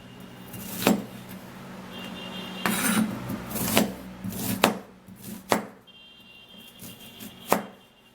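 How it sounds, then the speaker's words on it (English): A knife cuts through potato skin on a board in several separate sharp strokes, spaced unevenly, with faint rustling between them. "then we're going to be cutting this"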